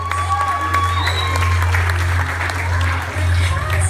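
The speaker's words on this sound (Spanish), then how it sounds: "¡Fuerte ese aplauso!" Guests at a quinceañera celebration applaud, with a dense, steady wash of clapping from a crowd that fills the room. Low background music hums underneath and a few voices and cheers are mixed in.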